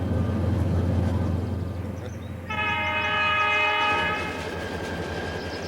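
Perishable freight train running through Nevada, loud steady rolling rumble with a sustained multi-tone horn blast sounding midway, continuing close and prominent to the end.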